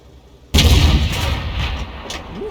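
A Sturer Emil tank destroyer's heavy gun fires once in a video game, a sudden loud close blast followed by a long rumbling, reverberating decay.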